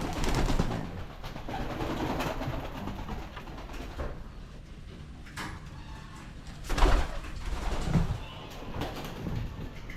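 Pigeons, including young birds, coo softly inside a loft, with low murmuring calls over a steady rustle of movement and a couple of louder knocks or shuffles partway through, fairly close with no talking.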